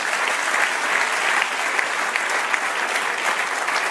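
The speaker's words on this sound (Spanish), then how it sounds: "Dale un aplauso al Señor." A church congregation claps together in sustained, even applause that fills the room for several seconds.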